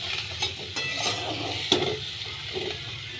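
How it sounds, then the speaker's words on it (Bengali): Spice paste fries in oil in a pan with a steady close sizzle, while a utensil stirs and scrapes against the pan in several distinct strokes. "মশলাটা সুন্দর ভাজা হলেই কিন্তু তেলটা চারদিক থেকে বেরিয়ে আসবে।"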